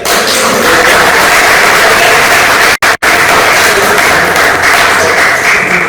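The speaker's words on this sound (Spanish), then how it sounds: "el cual pido un gran aplauso para el padre José." Crowd at a Movimiento Juan XXIII gathering in the Diocese of Springfield gives Father José a loud, dense round of applause, continuous clapping with a brief break midway before resuming at full strength.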